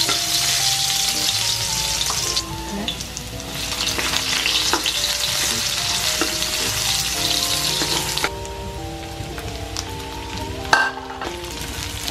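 Kikiam sizzling loudly as it sautés in a pan for pancit canton, a continuous bright frying hiss with occasional stirring scrapes and clinks, close and steady throughout with no talk.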